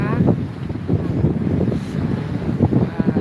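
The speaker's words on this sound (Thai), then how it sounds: "ดูสิคะลมแรงมาก" Strong wind gusting across a bridge, buffeting the microphone with a loud, uneven roar that swells and fades throughout, alone without clear talk.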